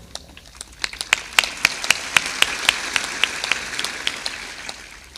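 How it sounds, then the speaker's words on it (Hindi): An audience at a spiritual discourse claps hands loudly, a dense run of sharp claps with some standing out above the rest. The applause keeps up steadily for about five seconds without speech. "खूब जोर से ताली बजाया करो"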